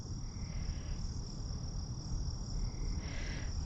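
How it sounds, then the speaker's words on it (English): Frogs croak over a steady chorus of insects along a road at night, the calls continuing throughout with a few louder trills standing out, and no one speaking. "So if you walk on this unnamed road at night, You're gonna find frogs."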